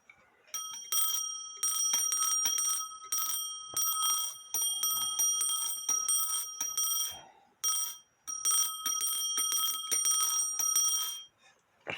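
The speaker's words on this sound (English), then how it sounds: "part of the reason why it's not loud is because the bell itself is loose" A postman's clock with a loose bell rings its alarm in rapid metallic bursts separated by short gaps, close and alone, with a thin, tinny tone.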